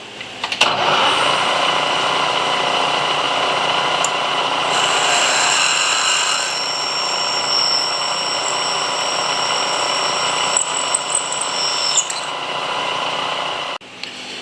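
A steady, whining power drill bores a cross hole into a metal block for over ten seconds, with shifting high-pitched tones, then cuts off near the end.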